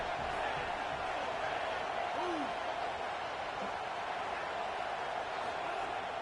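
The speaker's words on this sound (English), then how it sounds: "This crowd bringing the energy and noise early." A football stadium crowd at a Ducks vs UCLA game roars in a steady, dense wash of distant cheering and noise that holds constant throughout, with a faint voice rising briefly above it.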